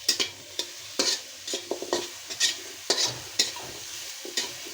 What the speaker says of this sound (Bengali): কাঁচামরিচটা আমি একটু ভাজা নেব তেল ছাড়া